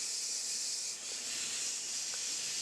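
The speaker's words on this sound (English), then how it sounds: "Release the pressure valve," Steady steam hiss from a pressure cooker's valve being released after cooking chicken noodle soup, a continuous bright rush that holds at an even, fairly loud level throughout with no talk.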